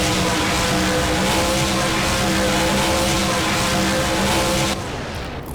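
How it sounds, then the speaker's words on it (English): A Hot Wheels monster truck spins a donut in the BeamNG video game, its engine a loud, steady drone with a sustained roar that drops in level just before the end. "Looks like they're going to bring the truck into a donut here."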